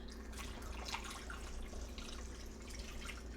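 Water is poured from a 2-cup measuring cup into a batch of cold brew coffee, a soft, steady trickle and splash that runs for a few seconds at low volume with no voices.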